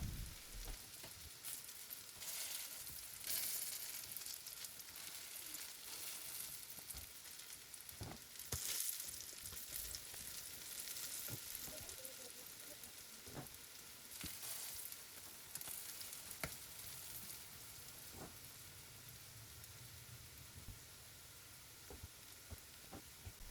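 Sweet potato rosti fry in hot pans, producing a continuous soft sizzle with occasional crackles and pops, fairly quiet and steady for the whole stretch.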